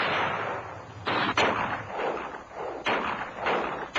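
Rifle shots on a Navy-instructed Sea Cadets firing range, heavy booming reports in a loose sequence of about four blasts, each followed by a long rolling echo over steady background noise.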